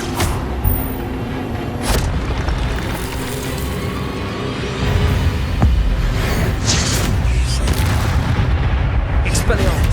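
Incendio fire spell cast in Hogwarts Legacy on PS5, with repeated deep booming blasts and crackling bursts over a steady rumbling game backdrop, a voice calling out between the hits.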